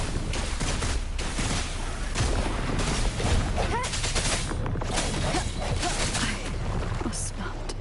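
Rapid bursts of gunfire in the Wuthering Waves video game, dense and continuous with booming impacts and whooshes, mixed with game voices throughout.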